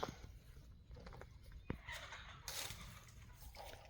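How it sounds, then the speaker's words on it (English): Chickens in a coop with three roosters and hens, faint clucks and squawks scattered over several seconds, rather distant and quiet, with a louder burst of fowl calls midway. "we got 3 roosters in that coop"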